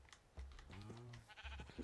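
Sheep bleating in Minecraft, a short wavering blocky bleat over light clicking and tapping like keyboard keys, fairly quiet and without talk.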